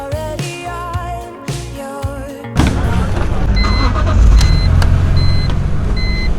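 A Honda S2000 pulls away from a car show, its engine note rising into a loud, rough roar after a quieter idle with some mechanical tones, and a faint repeating beep sounds in the background.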